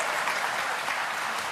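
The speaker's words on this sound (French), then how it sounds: "Je vous demande d'ailleurs d'applaudir notre juge arbitre" A studio audience applauds a referee on a French radio game show, steady dense clapping that stays loud and even throughout without pause.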